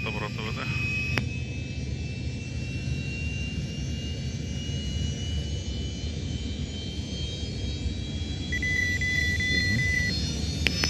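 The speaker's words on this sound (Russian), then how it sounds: "Первый двигатель запущен." An An-74 jet engine starts and spools up in a steady, loud roar with a high whine layered on top, continuing without a break.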